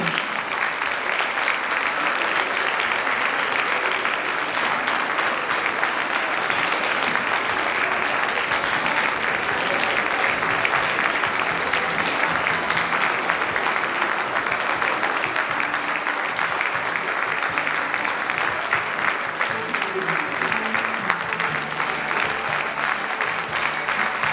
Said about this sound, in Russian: Под ваши аплодисменты